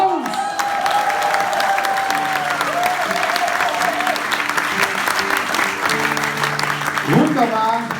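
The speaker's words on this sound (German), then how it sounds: "dein Applaus!" An audience applauds steadily for about eight seconds at a live sing-along event, with music and voices beneath the clapping and a brief vocal swell near the end.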